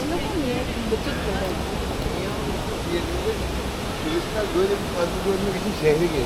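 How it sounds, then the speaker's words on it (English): An indoor waterfall at Hamad International Airport in Doha pours with a steady, hissing rush that fills the space, while voices murmur over it in the background. "as I get closer to the waterfall, I'm not sure if it's the spray or the mist, but it does feel colder here."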